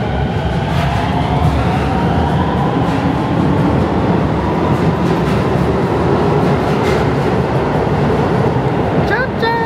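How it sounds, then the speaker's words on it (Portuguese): A train pulls out of a station in Tokyo's Jinbocho area with a loud, steady rumble and rolling rail noise that continues throughout, with a faint screech near the end and no clear talking. "Tchauzinho pro trem, né?"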